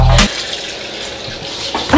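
Water pours steadily from a tap, a continuous rushing wash with brief bursts of sound at the start and end.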